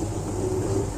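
A washing machine drum turning with a steady low mechanical hum and rumble, close and continuous.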